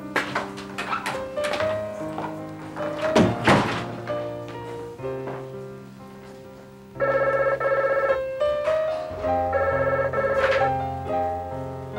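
A telephone rings indoors in a drama scene, with a melodic, repeating electronic ring rising clearly in the second half over soft background music.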